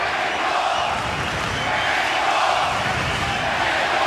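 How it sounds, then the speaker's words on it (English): A boxing arena crowd roars steadily through the late rounds of a Pacquiao versus Marquez fight at the MGM, a dense, continuous wash of massed voices at constant loudness with no single voice standing out. "Boy, the crowd is really into it here at the end."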